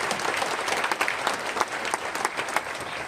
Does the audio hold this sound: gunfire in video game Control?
no